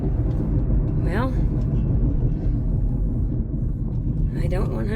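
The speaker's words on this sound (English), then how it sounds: "Let's see if I can determine which wheel bearing we've got here." A 2012 Toyota Camry with a worn wheel bearing drives along, giving a steady, loud low road rumble and drone from start to finish, with a couple of brief voice sounds above it.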